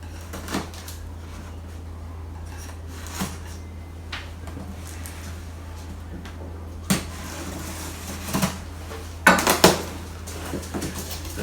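A new starch-removing rice cooker is unboxed, and its styrofoam packaging is pulled away with intermittent knocks, scrapes and rustles against a low steady hum, ending in a cluster of sharper clunks.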